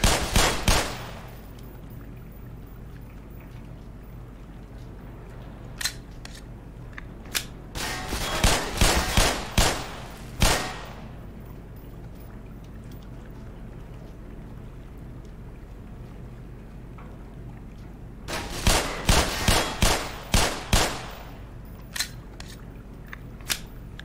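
Gunfire in the video game Black Mesa, two clusters of sharp, loud shots in quick succession separated by a long quiet stretch, with a few isolated single shots scattered between.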